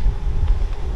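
Strong wind buffeting the microphone on a concrete road through a forest in the Bory Tucholskie while cycling, a steady low rumbling roar filling the whole second with no talk.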